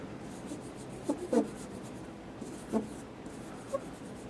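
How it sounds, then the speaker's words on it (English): A pencil eraser rubs over shaded pencil drawing on paper in a few short, soft scrubbing strokes, faint and close, with quiet pauses between them. "just take your eraser, and just kind of erase away a little bit"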